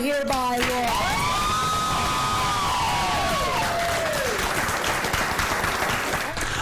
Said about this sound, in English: Governor Michelle Lujan Grisham was applauded this morning by women and activists